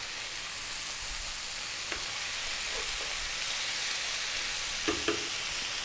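Two regular-sized tomatoes dropped into a hot pan of fish curry base, giving a steady broadband sizzle with a few soft clinks, close and even, with no one talking.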